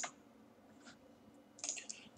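A computer mouse clicks the login button on a web form, giving a few soft, close clicks separated by a quiet gap, with no voices.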